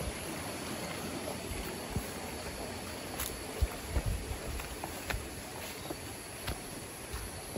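A small stream of clear mountain water with low flow runs with a soft, steady rush, joined now and then by faint clicks and light knocks nearby; nobody speaks.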